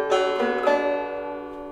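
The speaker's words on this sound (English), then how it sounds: "It's out of tune, but that's the sound of a banjo." A bright, twangy strummed banjo chord rings out and fades, a second strum close behind, with a slightly sour, out-of-tune quality.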